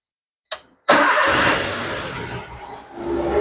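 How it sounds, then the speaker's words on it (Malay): A car engine cranks briefly, then catches and settles into a loud, steady idle in a workshop where the charging voltage is being checked. "kita start engine, tengok perubahan voltage tuh di screen tuh"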